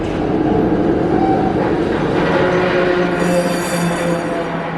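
A passenger train rolls through a California transit station, a steady loud rumble with rail clatter and a rising high squeal near the end, with no talking.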